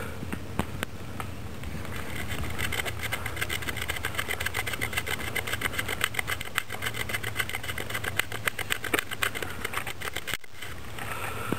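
A wooden hand-drill spindle spins against a fireboard in rapid, steady friction strokes, giving a continuous rhythmic scratchy whirring that runs unbroken at close range with no talking.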